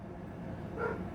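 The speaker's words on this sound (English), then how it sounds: "Sorry about the dogs." Dogs bark and yip in the background, quiet and a little distant, with a brief burst of yelps near the end.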